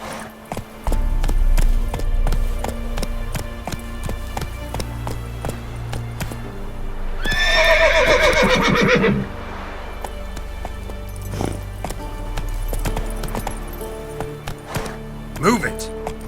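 Horse hooves pound in a rhythmic gallop in The Witcher 3 game on PS5, with a loud whinnying neigh midway, under a continuous game music bed and a rider's voice.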